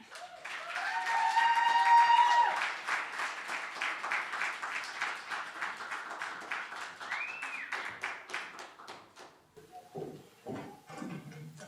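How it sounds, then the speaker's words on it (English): Applause at a storytelling and poetry open mic swells early and then fades as the claps thin out, with cheering and whooping voices rising over the start and some talking near the end. "please give a very, very final big round of applause for our last performer"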